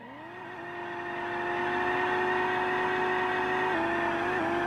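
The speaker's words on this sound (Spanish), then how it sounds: "Muy buena quema de rueda" A car's tires burn out in Gran Turismo 7, a Spoon S2000 or Roof BTR on the grid with a supercharger, its engine whining high and steady as it builds, with a sustained squealing tone alone.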